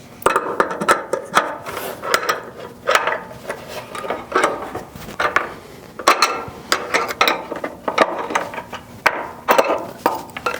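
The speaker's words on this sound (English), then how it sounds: "tighten them down with a small adjustable wrench or a similar tool that will do the job" A small adjustable wrench tightening nuts on threaded rod for an embroidery machine stand, heard as repeated close metallic clanks and ratcheting knocks in an uneven rhythm, with no talk.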